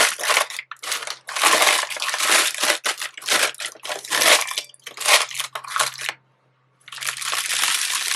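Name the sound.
crumpling parchment paper by hand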